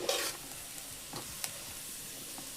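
A spoon stirs a dish in a pan over quiet sizzling, with a few brief scraping strokes and clinks against a soft, faint hiss.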